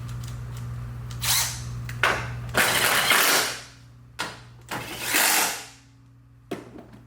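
A power tool runs bolts down on an engine valve cover, four bursts of ratcheting whir lasting about a second each, separated by clicks and brief pauses, close up.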